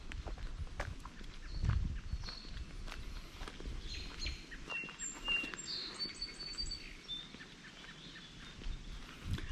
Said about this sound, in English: enjoying listening to the wind going through the leaves and all the birds kind of talking and singing amongst themselves